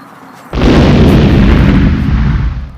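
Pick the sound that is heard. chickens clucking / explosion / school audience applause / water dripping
explosion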